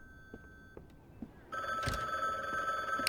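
A phone starts ringing in the video game Bookwalker: Thief of Tales, a loud, bright electronic ring bursting in halfway through after a few soft taps and a faint tone, then holding steady to the end.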